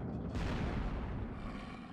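A cannon booms in the Devil May Cry game, with a sharp onset and a heavy low rumble that keeps rolling and slowly fades over two seconds, loud and close with no talking.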